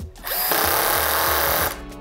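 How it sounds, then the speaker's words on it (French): Cordless drill set to low torque driving a screw into a wooden board, a steady loud motor whine that strains as the screw bites, then cuts off abruptly near the end. "la perceuse va s'arrêter vite lorsqu'elle va essayer de visser dans le bois"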